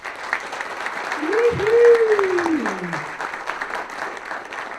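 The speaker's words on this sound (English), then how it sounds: "Let's give you all a round of applause." Audience applause at a film festival awards ceremony, a steady wash of clapping from a room full of people, with a voice whooping loudly through the middle.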